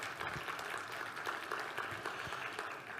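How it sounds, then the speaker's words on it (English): Sustained applause from a church congregation, dense and steady clapping filling the room for the whole stretch at moderate loudness, with no talk over it. "So it's a round of applause to you and to the Lord."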